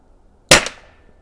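A single sharp rifle shot from a Skout Epoch fired during zeroing, loud and close, with a quick decaying tail and no voices.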